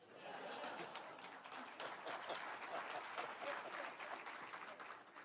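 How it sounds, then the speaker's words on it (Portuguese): Faint, sustained applause from the audience at a Reformed faith gathering, many hands clapping steadily at a distance, mixed with scattered chuckles and light laughter. "Se fosse eu, aplaudir agora."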